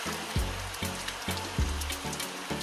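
Rain pattering on outdoor surfaces with a steady dense wash, punctuated by a few soft low thumps, continuous and moderately loud with no talking.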